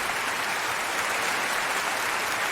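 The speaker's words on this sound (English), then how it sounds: "Let me get the hand claps going for our listeners here." Steady wash of applause-like hand claps, loud and continuous with no voices over it.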